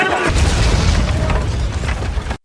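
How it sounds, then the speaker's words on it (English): A stick of dynamite thrown at troops explodes in a film scene from The Magnificent Seven, blowing apart a village: one loud, heavy, rumbling blast that holds steady for over two seconds before cutting off abruptly. "Apparently, Faraday had brought a piece of dynamite, which was thrown at Bogue's troops"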